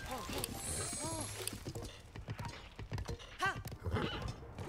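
A horse in Breath of the Wild gallops with a quick run of hoofbeat clip-clops and gives repeated whinnying neighs, fairly close and loud, with people talking over the game audio.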